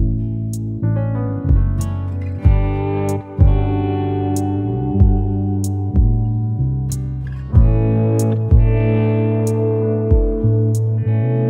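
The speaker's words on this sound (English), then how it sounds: "Also added more delay and more reverb and delay with kind of a chorusy effect" Real instruments recorded for a finished track play a slow sequence of sustained tones drenched in delay, reverb and a chorus-like shimmer, each new note attacking then trailing into echoing tails, loud and alone without speech.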